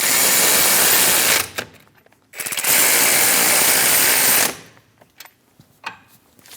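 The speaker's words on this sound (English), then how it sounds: "Get the bolt started. Snug the bolts down." A ratchet wrench cranks brake caliper bracket bolts on the front brakes of a 2016-2025 Chevrolet Malibu, with two long rapid clicking bursts close up, followed by a few quieter, scattered mechanical clicks.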